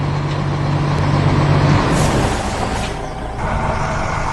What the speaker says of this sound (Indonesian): Lihatlah, truk kuning besar itu berjalan menyusuri kota.